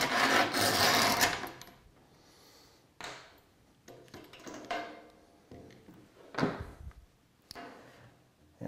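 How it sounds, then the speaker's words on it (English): A screw scratches through paint along the edge of a computer case fan, giving several short, close rasping strokes separated by pauses, with no talk. "Take a sharp pointed metal object, in this case a screw. Scratch the paint down the edge of the fan."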